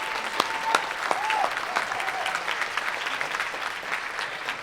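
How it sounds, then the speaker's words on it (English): An audience applauds a team at the ODA Summit 2025 awards ceremony with steady, full clapping, punctuated by a few sharp louder claps and faint whistle-like tones early on. "So please, with a round of applause, help us congratulate this team for the work that they do."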